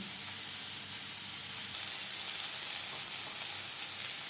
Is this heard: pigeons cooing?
no